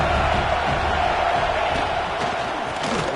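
A stadium crowd in the College Football 26 video game keeps up a steady, loud roar of cheering, a dense wash of noise with no pauses.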